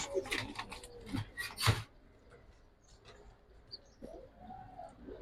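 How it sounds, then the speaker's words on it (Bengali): A female pigeon gives soft cooing calls close by, with a burst of fluttering and rustling early on, then quieter intermittent coos over faint background. "এরকম একটা মাদি দেখেন"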